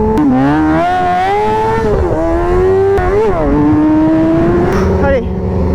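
A motorcycle engine revs on a racing circuit during a drift session. It sounds loud and close and holds a steady drone whose pitch rises and falls through the gears over the whole stretch, with no clear talk.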